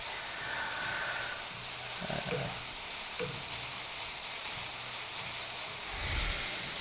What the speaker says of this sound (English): it's just started raining, which is fantastic